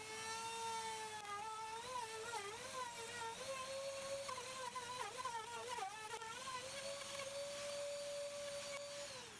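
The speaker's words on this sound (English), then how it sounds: "Screwed wood block to the bed, adjusted rotor cupping depth, and in a few passes removed needed thickness to get totally flat surface." A router flattens a pallet wood block screwed to the bed, giving a continuous high-pitched whine whose pitch wavers as it cuts through passes, steady and fairly close with no voices.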